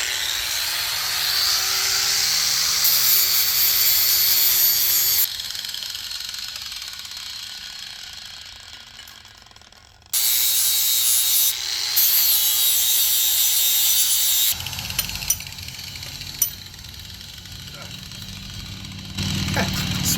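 Lawn mower blade from a Cub Cadet CC 550 mower being sharpened, rough grinding bursts that start, stop and restart across the span, fairly loud and close with some background noise.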